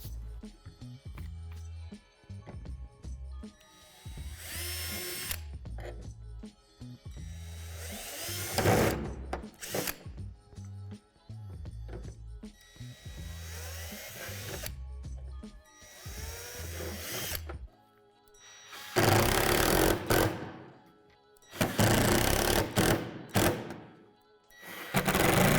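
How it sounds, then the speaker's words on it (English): A power drill whines in repeated bursts while drilling holes in a Lifetime 80-gallon rotating composter panel, spinning up and stopping several times, with quieter handling clatter and tool noise between the runs. "drill out the holes and secure with the hardware."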